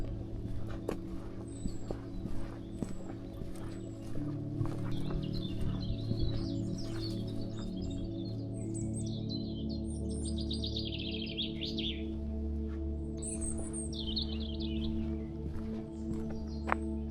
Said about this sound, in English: It would be so nice to have a shot, like a static shot of a bird up close like that,